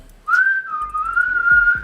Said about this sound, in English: I try to whistle sometimes too